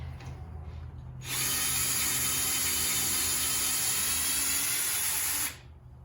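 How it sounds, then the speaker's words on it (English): After a low background hum, a power drill removing wheel nuts from a trailer whirs loudly for about four seconds in one sustained burst, then cuts off abruptly. "as I'm old and lazy, I let the drill do the repetitive work."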